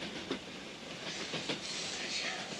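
Steady rumble and hiss of a moving train heard from inside a carriage, with faint rhythmic clicks of wheels on rail joints and no voices.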